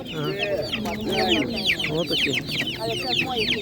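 Chickens clucking steadily with overlapping chirpy calls from several birds close by at an animal market, while a person talks underneath.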